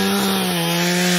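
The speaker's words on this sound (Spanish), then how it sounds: "Ahí de a poquito mordiendo la cadena de la motosierra y estirándola a propósito." A chainsaw cuts into a lapacho tree with a loud, steady, unbroken motor whine that holds at full power throughout, with no voices.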